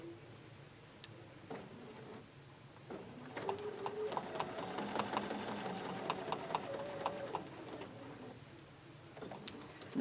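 A sewing machine stitches quilt blocks in short, close bursts of rapid clicking and whirring, starting and stopping, rising to a longer steady run in the middle, quiet overall.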